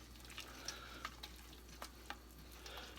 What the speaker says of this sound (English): you add your flour and your oil to a hot pan and you start stirring